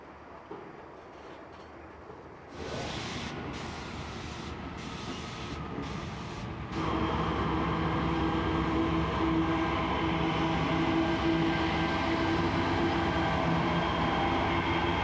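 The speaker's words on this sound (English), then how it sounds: "Slowly, oh so slowly, the train sets off again." A heavy, long freight train starts moving, a low mechanical rumble swelling and settling into a steady, droning roll with metallic squeals and hum.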